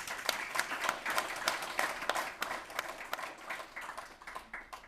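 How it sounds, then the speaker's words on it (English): Audience applauding at a community celebration, a continuous spread of many hands clapping at moderate volume from start to finish. "Let's give her another round of applause."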